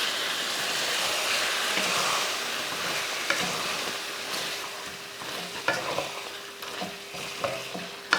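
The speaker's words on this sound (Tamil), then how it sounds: "தேங்காய் பால் ஊற்றி மறுபடியும் ஒரு 2 நிமிஷத்துக்கு இது போல் வதக்கி விட்டோன்னா" Chicken varuval sautéing in masala with thick coconut milk, a close, constant sizzle with scattered scraping stirs and light taps toward the end, no voices.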